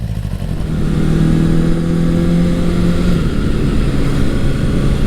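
Honda CB750 motorcycle engine on a first ride after restoration, a loud, steady mid-pitched drone with rising and falling revs as it is ridden, no talking.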